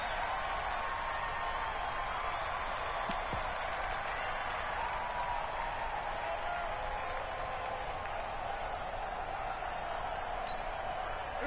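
Stadium crowd in a Madden 20 football video game between the Chargers and Cowboys keeps up a steady, loud roar with scattered clapping and cheering, continuous and fairly close, with no talking.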